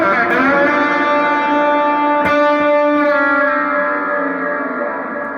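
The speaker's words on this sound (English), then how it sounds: "it's the small Pyrex. So it's like a glass slide" Electric guitar played with a small Dunlop Pyrex glass slide, sustained gliding tones ringing loud and close with heavy effects, echo and reverb, and one sharp pick attack midway.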